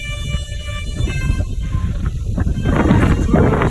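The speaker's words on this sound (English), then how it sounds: "It seems that it's getting windier now." Strong wind gusts buffet the microphone beside the River Thames near the London Eye, a loud, continuous low roar that builds toward the end, with faint city and river noise underneath.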